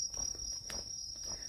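Crickets chirp steadily at night in the countryside, a thin continuous high trill, faint and distant, with soft low rustling beneath.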